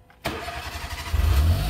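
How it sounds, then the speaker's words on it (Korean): A car's starter motor cranks briefly and the engine catches, rising into a loud, close, rumbling idle after a short quiet start. "스타트 모터 정말 시원하게 돕니다"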